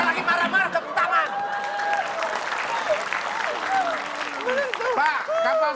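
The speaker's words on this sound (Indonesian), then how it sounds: "Ini malah tepuk tangan lagi" Applause from a studio audience on a crossword quiz show, a continuous bed of clapping and crowd noise running beneath animated, overlapping talk and laughter from people in the room.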